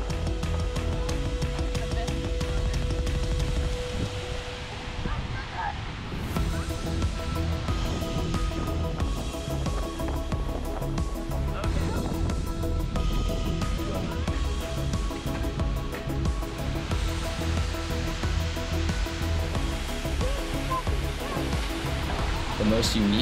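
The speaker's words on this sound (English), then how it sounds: "Seljalandsfoss, one of the more famous waterfalls in Iceland," Seljalandsfoss, a famous 200-foot waterfall in Iceland, roars as a steady broad rush of water throughout, with voices talking faintly underneath.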